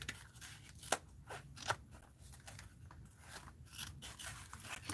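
Scissors cut paper for a mixed-media art journal, producing a quiet run of close, crisp snips and slicing strokes, a few sharper clicks standing out against faint background noise.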